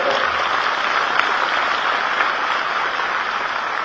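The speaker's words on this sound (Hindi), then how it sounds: "आप भी ताली बजा कर स्वागत करें।" Steady audience applause fills the room at a seminar as a young woman who teaches yoga is welcomed, a dense continuous clapping with no pauses throughout.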